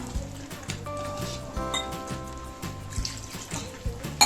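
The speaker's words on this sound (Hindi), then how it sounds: "थोड़ा सा पानी डाल के मैं अभी इसमें ढक्कन लगा के रख दूँगी" Water splashes and pours into a pot of green chicken gravy, with uneven gurgling and light clinks, close and moderately loud.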